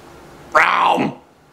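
A kitten gives a single close, drawn-out meow that slides downward in pitch, standing alone against a quiet background.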